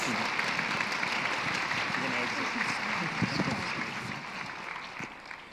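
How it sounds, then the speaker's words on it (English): A conference audience applauds a panel on workforce development, a full, sustained round of clapping that holds steady and then begins to taper off toward the end, with some murmuring underneath. "Please join me in giving them a round of applause."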